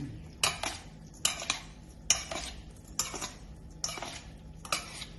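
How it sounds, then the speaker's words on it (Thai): A spoon scrapes and clinks against a pot or bowl in a run of rhythmic strokes as toasted rice is stirred into pork larb, close and fairly quiet. "เสร็จแล้วก็ใส่ข้าวคั่ว หอมๆแล้วก็คนให้เข้ากัน"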